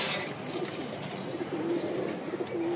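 A male Giribaj pigeon coos in a cage, giving several soft, low, rolling calls close by over a steady noisy background hum.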